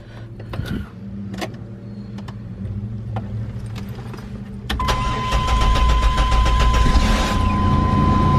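Chevrolet Blazer engine cranking briefly, then catching and running at a steady idle, loud and close, with a thin whine persisting over the rumble.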